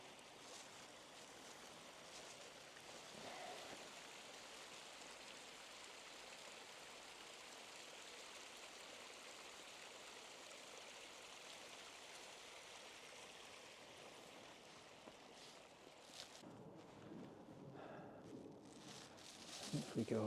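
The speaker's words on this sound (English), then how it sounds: "There's a little waterfall there." A small waterfall and stream in the Lake District give a steady, soft rushing of water throughout, with faint rustling and a few closer knocks near the end.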